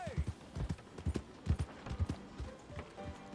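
Horse hooves gallop in Red Dead Redemption 2, a rapid, rhythmic clip-clop of hoofbeats with low thuds, steady and close, mixed with other game sounds and a voice talking over them.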